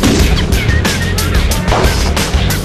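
Rapid overlapping fireworks bursts crackle and bang nearly without pause at the 12 Hours of Sebring 2003 race event, loud and dense like a fusillade, with crowd noise underneath.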